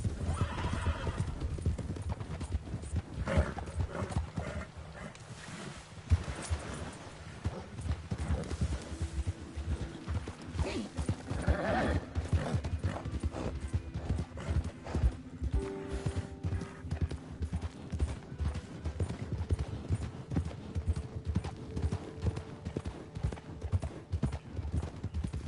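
Steady clip-clop of hooves at a riding pace in the video game Red Dead Online continues throughout, with occasional horse neighs and snorts mixed in.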